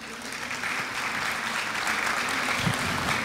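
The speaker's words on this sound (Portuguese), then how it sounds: "Uma salva de palmas para todos." Audience applause for a debate panel on game entrepreneurship, a brief burst of dense clapping that swells slightly after the first half second and stays steady and fairly close.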